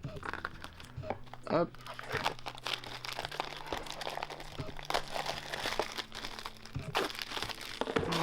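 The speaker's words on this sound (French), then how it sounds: "On va ouvrir voir si ça se dépunch facilement." Cardboard tokens pressed out of a sheet from the Raxxon board game: crackling, crinkling snaps and tears in irregular close bursts, under a French-speaking voice and faint background music.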